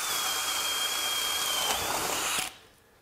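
A FLEX 24V hammer drill in drill mode bores steadily through a pressure-treated 4x4 post, a loud continuous whine with a faint high tone that stops abruptly near the end, leaving quiet room noise.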